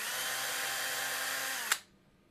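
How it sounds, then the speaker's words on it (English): A drill whines steadily while boring a reference hole in a guitar body, then stops abruptly with a short click, leaving near silence. "I'm going to take the drill"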